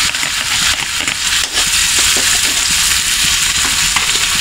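Garlic frying in hot margarine in a pan, with a loud, dense, continuous sizzle and crackle heard up close and alone.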